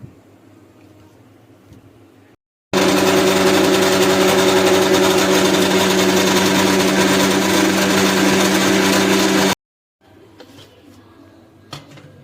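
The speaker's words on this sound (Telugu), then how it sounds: "అవన్నీ చల్లగా అయిపోయాయి కాబట్టి ఇప్పుడు వాటిని మనం మిక్సీ పడదాం." A mixer grinder jar grinding cooled roasted grains into powder for homemade baby cereal, a loud continuous motor whir lasting about seven seconds, starting and stopping abruptly between quiet stretches.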